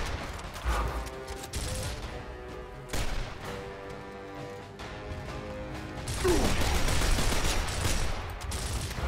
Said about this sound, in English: I'm just gonna shoot you with this pistol.